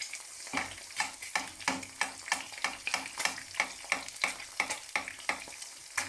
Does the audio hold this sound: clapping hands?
no